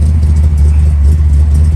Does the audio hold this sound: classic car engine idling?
yes